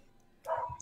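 A dog barks somewhere in the background during a Minecraft-style team game session, a short burst of muffled barks rising after a quiet moment, distant and faint.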